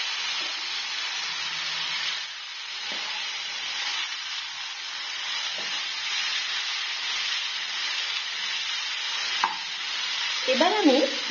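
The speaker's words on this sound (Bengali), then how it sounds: "এরপর আমি দিয়ে দেব গ্রেট করা পেঁপে। ভালোভাবে নেড়ে নেব।" Grated raw papaya being stirred in a hot pan, a steady bright sizzle with periodic scraping strokes and light knocks of the spoon, moderately loud and without talk.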